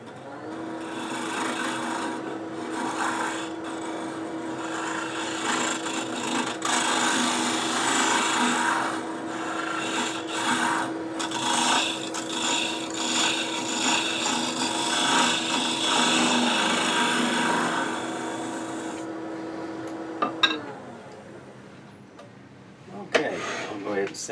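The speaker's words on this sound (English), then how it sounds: "I'm going to clean that up with a negative rake scraper" Negative rake scraper lightly cleaning the bottom of a turned box of contrasting wood on a lathe, a steady scraping rasp over the continuous motor hum that runs for about twenty seconds, then stops with a couple of clicks.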